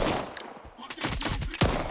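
Gunfire while shooting stalkers in S.T.A.L.K.E.R. 2, several sharp close shots in quick irregular succession, loud and with no talking.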